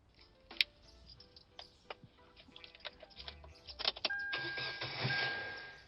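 A car engine cranking with a few uneven clicks and sputters, then catching and settling into a steady idle near the end, heard close and fairly quiet with no voices.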